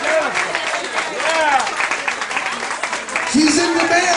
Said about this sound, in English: Have a nice round of applause for Jeff Lowe, ladies and gentlemen.